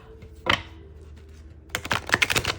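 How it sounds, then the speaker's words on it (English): A deck of tarot cards is shuffled, a single quick riffle burst followed after a pause by a longer run of rapid papery flutters and taps, close and clear. "let me shuffle real quick"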